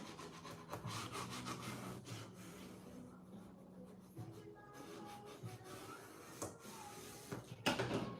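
A bone folder or tool rubs firmly back and forth over a paper fold on a 12x12 scrapbook album, soft scraping strokes heard close with small taps and rustles.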